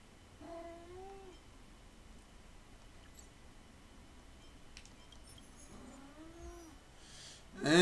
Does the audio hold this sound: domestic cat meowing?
yes